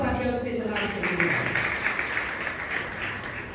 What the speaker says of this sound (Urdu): تو پھر زوردار تالیاں اس کے جلال سے دیں